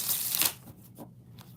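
Tarot cards are shuffled by hand, a short, close burst of riffling and rustling followed by a few softer taps as the deck settles.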